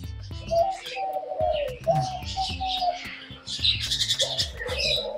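Soft repeated cooing from a diamond dove at a Pondicherry bird park, mixed with other chirps and squawks from nearby birds, and a voice talking faintly in the background.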